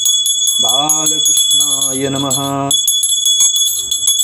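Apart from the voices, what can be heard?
hand bell rung during Janmashtami puja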